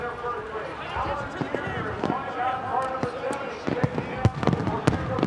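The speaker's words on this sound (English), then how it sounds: "the fireworks go off to celebrate for Jeff Ward" Fireworks crackle and pop in a celebration at Texas Motor Speedway after the 2002 Boomtown 500 IndyCar race, with sharp bangs growing denser toward the end over a distant crowd roar.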